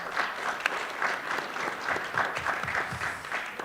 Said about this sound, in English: while we're applauding